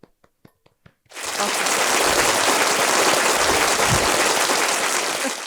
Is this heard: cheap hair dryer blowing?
no